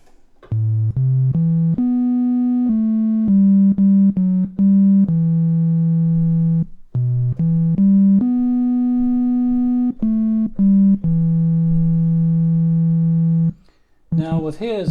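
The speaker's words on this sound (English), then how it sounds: "move it to a sine wave." A synthesizer plays a pure, smooth sine-wave tone in a sequence of stepped notes, some short and some held, ending with brief talk.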